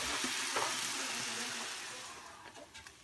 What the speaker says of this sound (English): Steak, got veggies going. It's gonna be a good stir fry.